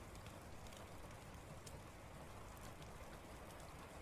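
Steady, continuous rain sound playing as a soft ambient background for a quiet stream, an even hiss of drops on a surface with no pauses or voices.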